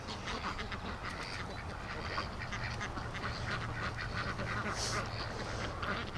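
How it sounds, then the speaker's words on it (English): Muscovy ducks quacking in a noisy outdoor setting, their calls blending into a steady, dense wash of background sound with no clear separate voices. "Oh, we got a little late duck coming out."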